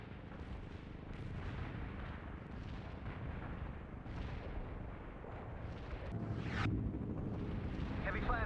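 Heavy artillery fire in the real-time strategy game World in Conflict, a dense, continuous rumbling barrage of blasts and booms that swells toward the end and fills the whole stretch without pause.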